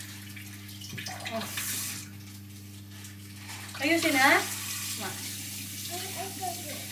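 Tap water running steadily into a sink as hands are washed at a birthday party, a constant hissing splash with a steady hum behind it, while children and adults talk over it.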